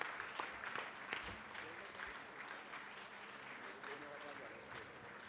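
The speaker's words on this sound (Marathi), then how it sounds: "Let's give him a round of applause, big round of applause." Congregation applauding at a Sunday church service, a faint, steady patter of many hands clapping with a voice speaking over it.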